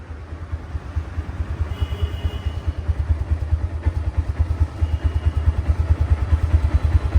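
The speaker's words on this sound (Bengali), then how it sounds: "ইঞ্জিনটা রানিং অবস্থা স্টার্ট অবস্থায় আছে তারপরেও সাউন্ড নেই দেখেন" A 2021/22 second-hand Honda Hornet LED motorcycle idles nearby with a steady, quiet, low putter and no other sound.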